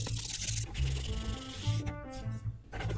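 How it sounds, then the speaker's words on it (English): Light hand sanding of the wooden runners on a cross-cut sled, producing close, rhythmic rubbing strokes with a few brief squeaky tones mixed in. "The runners are lightly sanded to provide a smoother run"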